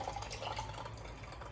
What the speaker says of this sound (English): I'm gonna pour my hot sauce into that little silicone